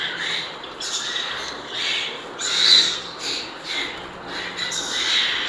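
Exhibition finches kept for sale at a pet market in Islamabad call in a busy chorus of high, overlapping chirps and squeaks, steady throughout with no talk.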